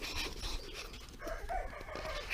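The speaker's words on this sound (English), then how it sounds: "That's your cue where you're meant to go cock-a-doodle-doo like you've been doing all morning long" A poultry rooster crows faintly at a distance amid busy background noise, a brief rising call with no talking nearby.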